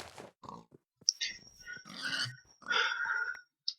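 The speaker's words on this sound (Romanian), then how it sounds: "Stați să mor porcul." Pig grunting and squealing in Minecraft, a few short, close bursts with gaps of silence between them, heard alone without talking.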